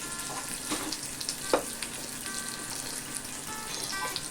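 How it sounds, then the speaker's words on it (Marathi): Spice masala sizzles and fries in hot oil for a bhendi (okra) curry, a soft continuous crackle with a few stirring clicks, quiet and close, with no talking. "ती तेलामध्ये परतून घेऊया"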